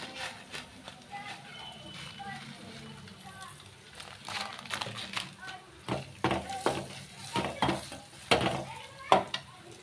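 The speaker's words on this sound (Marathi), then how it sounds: "त्यात थोडे जिरे टाकणार आहोत आपण." Cumin seeds sizzle in hot oil in a pan while making a spicy pea curry, with clinks and stirring scrapes of a utensil growing busier toward the end; a voice speaks faintly in the background.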